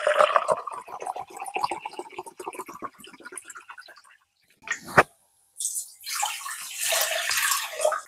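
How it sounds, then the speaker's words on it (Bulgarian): Sparkling water poured into a large mixing bowl for a soda flatbread, a splashing, gurgling stream for several seconds, a brief pause, then a second brighter fizzy pour, close to the microphone. "Първо, в купата ще сложим газираната вода."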